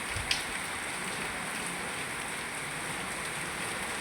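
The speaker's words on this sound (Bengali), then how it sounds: "মুষলধারে বৃষ্টি।" Heavy rain pours down in a steady close wash of noise that never lets up and has no clear gaps between drops.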